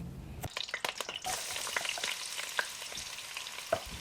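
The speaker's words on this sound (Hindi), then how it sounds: "बस मैंने ऑयल को गर्म किया और उसके अंदर 2 मीडियम साइज़ के प्याज डाले और इनको लाइट ब्राउन कर लिया" Two medium onions frying in hot oil until light brown, a close crackling sizzle with scattered sharp pops and spatters throughout.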